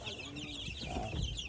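Young chicks peep softly in a freshly cleaned coop, faint and steady throughout, with a low background rumble.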